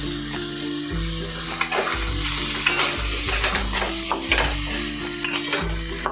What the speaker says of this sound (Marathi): परतून घेऊयात छान असे पूर्ण एकजीव करूयात